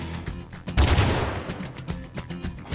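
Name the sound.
enemies firing guns at player in video game ARCO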